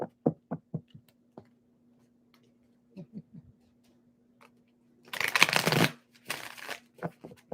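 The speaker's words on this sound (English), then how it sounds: "one more shuffle for Sag" A deck of tarot cards is riffled and shuffled by hand, a few soft taps and flicks at first, then a dense, close burst of shuffling followed by a couple of shorter riffles.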